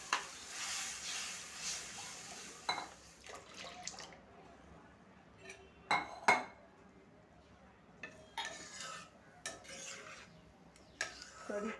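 Buttermilk kadhi cooking in a kadai brings intermittent scraping and clinking of a spoon against the pan between quieter stretches, with faint bubbling underneath.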